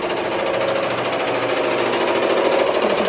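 Commercial embroidery machines run in a workshop, a loud, steady, close mechanical whir with a rapid needle-driven chatter that holds throughout.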